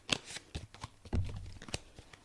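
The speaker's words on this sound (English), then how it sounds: "So I'm going to shuffle up the deck." Shuffling a deck of cards: soft riffling taps and short crisp snaps in quick uneven bursts, fairly quiet and close, with no voices.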